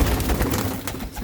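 Pigeons coo softly in low, throaty murmurs, several birds overlapping close by in a steady, continuous bed without pauses.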